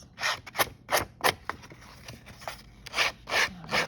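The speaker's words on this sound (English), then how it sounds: "if you have a nail file, an emery board, you can just sand it also" Emery board rasped along the edge of a handmade Christmas card, heard as a series of short scratchy strokes repeating at an uneven rhythm, close and moderately loud with no talking.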